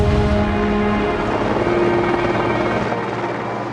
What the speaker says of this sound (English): Then the helicopter kind of flies overhead